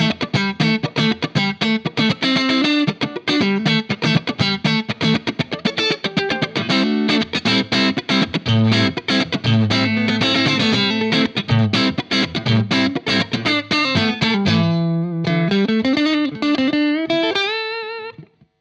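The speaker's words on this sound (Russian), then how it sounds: "Я пока включу нековый звукосниматель и поиграю что-нибудь такое фанковое." Funky electric guitar on the neck pickup plays busy, choppy rhythmic chords and single-note runs with a warm, effected tone, loud and continuous, sliding into a final sustained bend.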